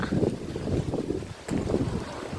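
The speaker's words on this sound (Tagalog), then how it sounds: "Lakas na hangin." Strong wind buffets the microphone in steady low rumbling gusts, with a brief dip and a short crackle near the middle.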